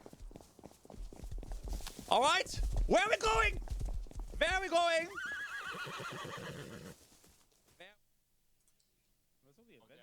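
Horse in a video game neighing and whinnying in several loud bursts over clip-clop hooves, with people talking excitedly throughout before the sound drops away near the end.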